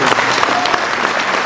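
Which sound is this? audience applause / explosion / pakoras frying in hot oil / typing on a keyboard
audience applause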